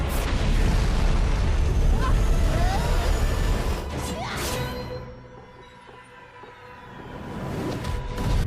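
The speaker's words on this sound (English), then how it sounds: "Cinder opens up with a few flame blasts, which Pyrrha is able to dodge" Flame blasts go off during an animated RWBY fight between Cinder and Pyrrha: loud, rumbling booms and bursts overlap, with a few sharp whooshing strikes before the roar briefly ebbs and swells again.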